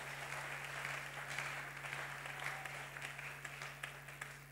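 A church congregation applauds during a French-language sermon, sustained clapping spread across the room at moderate distance, steady for several seconds over a low steady hum, with no talk.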